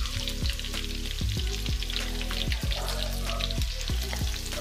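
Chicken 65 deep-frying in hot oil, a loud, steady sizzle and crackle with repeated clinks of tongs moving the pieces, no talking.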